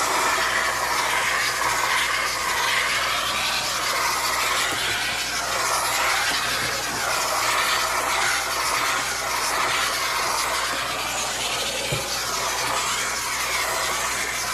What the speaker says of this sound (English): you can really see the steam come off of this when I'm cleaning with it